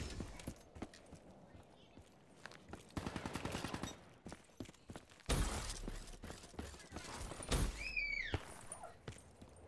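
Video game gunfire comes in rapid bursts and single loud cracks during multiplayer squad play, mixed with game effects and other noises, close and prominent.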